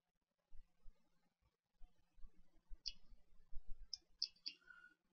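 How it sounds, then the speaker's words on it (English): Faint keystrokes on a computer keyboard as a short word is typed: a few soft, scattered clicks and light taps spread unevenly over a quiet background. "I type hello"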